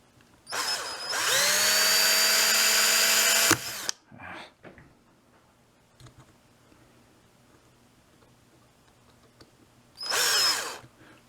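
A power drill with a drill bit works on a Corgi #436 Citroen Safari model during restoration, a loud whining burst of about three seconds, then small clicks and handling noises, and a second short burst near the end.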